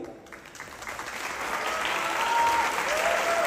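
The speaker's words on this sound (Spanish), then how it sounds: "Estamos muy agradecidos por sus aplausos" An audience applauding in a theatre during a dance festival, a dense wash of clapping that starts moderate and swells louder, heard from a distance.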